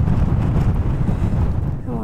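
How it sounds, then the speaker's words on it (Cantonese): Strong wind on a high plateau at about 5,000 m roars steadily into the microphone throughout, loud and buffeting, with a person's voice partly buried under the gusts. "好大風啊！"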